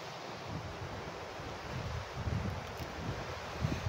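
A breeze with waves at a seaside spot called The Edge in Roxas City, Iloilo: a soft, steady wash and rush of air and water, fairly faint and unbroken, with no talk.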